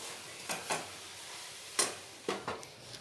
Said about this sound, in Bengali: নেড়ে নেড়ে খুব ভালোভাবে এটা পাক করে নেব